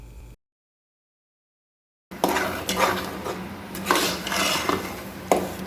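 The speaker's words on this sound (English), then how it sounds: "you just continuously turn the egusi and allow it to cook for about 10" A spoon scrapes and turns egusi as it fries in a pot, with repeated metallic stirring clatter over a faint sizzle. The stirring comes in after a brief silent gap and is close and moderately loud.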